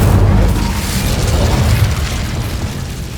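An Incendio fire spell in Hogwarts Legacy bursts in a loud, dense roaring boom with a rumbling low end that stays heavy for the whole stretch before easing slightly.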